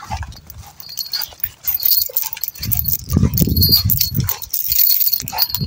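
Street dogs bark in loud, repeated, overlapping bursts outdoors while people shout and talk nearby.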